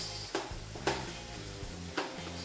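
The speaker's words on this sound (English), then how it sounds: "Let me just saute it a little bit more" Indian spices sauté in a pan for a Bengali kofta curry, with a soft sizzle beneath three distinct spoon scrapes and knocks against the pan.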